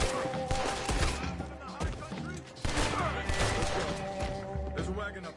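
Rapid bursts of enemy gunfire in Red Dead Redemption 2, a dense clattering fusillade of repeated shots filling the scene, loud and near with brief dips, over game music and effects.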